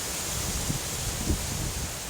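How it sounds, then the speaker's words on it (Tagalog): Strong typhoon wind blows across an open rice field, a steady roaring rush with a couple of brief gusty buffets against the microphone, no voices. "Grabe ang lakas talaga ng hangin dito ngayon. Dahil sa bagyo."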